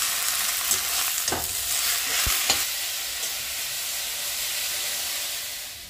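Leaves frying in a pan with a little salt, giving a steady soft sizzle and hiss with a few brief stirring scrapes, close up and with no voices.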